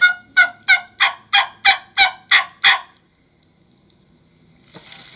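A wild turkey gobbling while still roosted in a tree, nine sharp rapid gobble notes in a quick even rhythm, loud and clear, then near silence with a faint rustle at the end.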